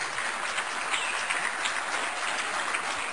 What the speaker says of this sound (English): I don't want the applause